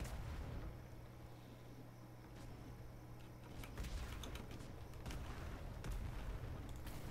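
Large ship cannons firing during a naval battle in the pirate game Atlas, heard as repeated deep booms and sharp cracks over a steady low rumble of wind and sea, with the blasts getting denser and louder in the second half.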